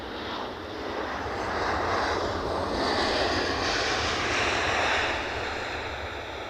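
Airplane landing at Edinburgh airport, a steady distant roar of jet engines swelling and fading with a wind-like rush, no voices.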